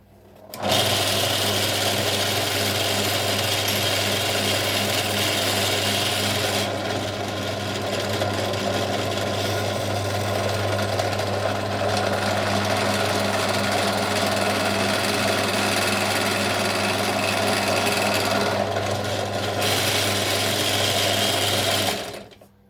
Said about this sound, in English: start the drill up